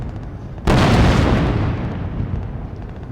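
A tank fires a single loud, heavy boom in an Army Day 2020 demonstration attack, then a long rumbling roar slowly fades outdoors.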